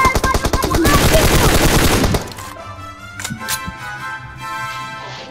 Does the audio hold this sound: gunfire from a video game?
yes